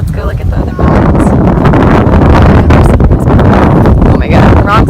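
Strong wind on Kauai roars loudly and continuously into the microphone, a dense low buffeting rush, with faint voices briefly audible beneath it.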